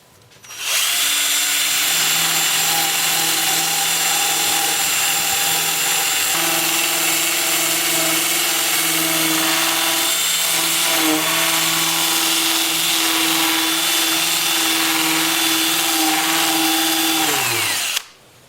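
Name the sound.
sanding black cherry wood on lathe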